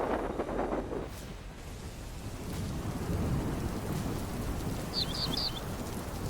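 Steady rain falls with rumbling thunder at a forest edge where wildebeests graze, a continuous broadband wash of downpour with a brief trio of bird chirps near the end and no voices.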